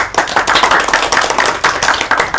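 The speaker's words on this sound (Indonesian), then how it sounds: "Tepuk tangan." A classroom group claps hands in a fast, even rhythm, close and loud, with sharp repeated slaps for the whole stretch and no talking.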